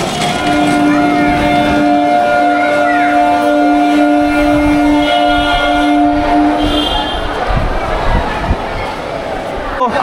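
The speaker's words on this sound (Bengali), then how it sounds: "এই যে ট্রেন আমাদের কিন্তু ছেড়ে দিয়েছে। ঘড়িতে ডট 7:14 আর ট্রেন ছেড়ে দিয়েছে।" Lakshmikantapur local train pulling out from platform 18, heard close and loud: a sustained horn tone sounds over the heavy rumble and squeal of the departing carriages, with station noise and voices around.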